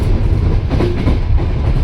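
Passenger train on the Chernihiv–Ivano-Frankivsk route rolling along the rails, a loud, continuous rumble with rhythmic clacking of wheels heard from inside the carriage.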